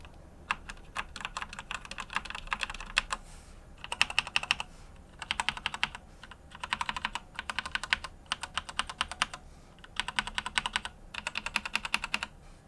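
Keys clatter on a Razer BlackWidow TE Chroma V2 stealth mechanical keyboard in quick bursts of typing, crisp and fairly quiet clicks with short pauses between runs.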